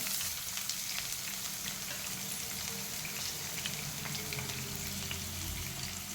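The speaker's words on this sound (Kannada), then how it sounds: "ಬೇಸಪ್ಪಿನ ಗರಿ ಎಲ್ಲ ಉರಿಯಬೇಕು ಈರುಳ್ಳಿ ಕೆಂಪಾಗಬೇಕು" Onion with curry leaves and green chili frying in hot oil for upma makes a dense, crackling sizzle with scattered pops, loud and continuous from start to finish with no talking.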